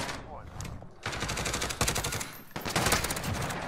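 Grau 5.56 rifle fire in Call of Duty: Modern Warfare comes as rapid, loud automatic bursts in several sustained volleys, one after another.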